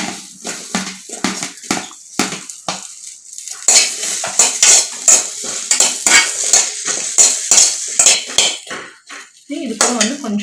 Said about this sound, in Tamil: ஒரு 1/2 டீஸ்பூன் உப்பு போட்டு நல்லா வெண்டைக்காய் வதக்கி விட்டுக்கோங்க